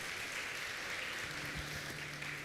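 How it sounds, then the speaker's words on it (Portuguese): A church congregation applauds during a sermon, a soft, even rustle of clapping that sounds distant and diffuse, with faint low murmurs and tones underneath. "Você pode aplaudir a esse Jesus?"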